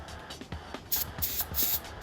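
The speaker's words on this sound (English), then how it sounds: "Begin by spraying half of the weapon from top to bottom" Short repeated bursts of toxic, flammable cleaning solvent are sprayed onto a gun held over a bucket, about half a dozen close, crisp hissing pulses in quick, uneven rhythm.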